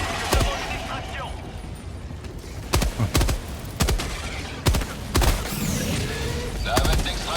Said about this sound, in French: c'est ta copain là qui tire avec son char